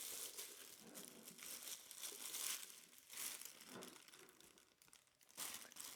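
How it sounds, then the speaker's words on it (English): A clear plastic bag is pulled off an electric coffee and spice grinder, giving close, quiet, irregular crinkling and rustling with several louder crackles. "Let's remove the clear plastic bag"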